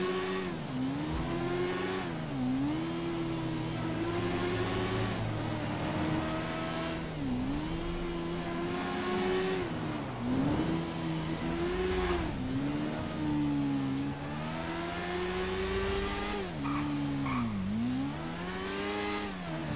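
A motorbike engine in GTA 5 revs continuously, rising and falling through repeated throttle swells and gear-like dips, loud and steady with no voices.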